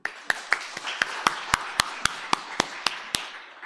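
Sparse, sharp claps ring out at a church lecture on havruta education, a few distinct hand claps in an uneven rhythm rather than a full crowd, close and crisp against a quiet room.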